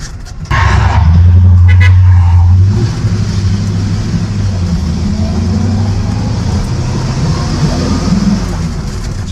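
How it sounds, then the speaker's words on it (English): Old Ford truck with a flathead engine, its exhaust note a loud, close, deep droning rumble that swells sharply at the start, then settles into a steady lower hum as the truck cruises. "there's nothing like a nice flathead Ford exhaust note."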